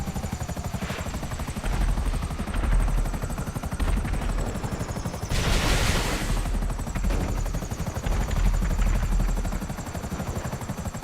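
An Akula helicopter in GTA Online thrums loudly with rapid rotor chop while bursts of missile and gunfire break through, including one sharp blast midway, with no talking over it.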